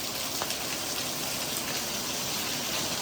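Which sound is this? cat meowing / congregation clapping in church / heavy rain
heavy rain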